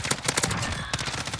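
Automatic gunfire in Modern Warfare Search and Destroy: a rapid, rhythmic burst of close, sharp shots that runs almost continuously, pauses briefly, then resumes. The shots are loud and stand clearly above everything else.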